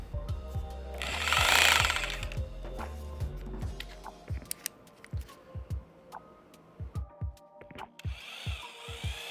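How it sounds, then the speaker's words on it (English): A power drill bores 3/8 anchor holes for an RV gate post without hammer mode, a loud whining burst followed by a steady run of sharp ticking and clicking pulses up close. "they're listening to that drill and they're going, that is not in hammer mode"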